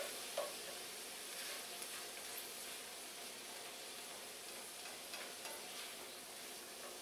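Packaged ramen with shrimp and bacon stirred together in a pan: a broad, even frying hiss that holds steady throughout, fairly quiet and close, with faint occasional stirring knocks and no talk.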